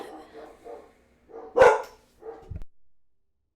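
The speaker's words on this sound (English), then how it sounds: "I had to tell my dog to go lay down." A dog barks several times indoors: a few soft woofs, then one loud sharp bark, a couple more quieter yips and a short thump, with pauses between.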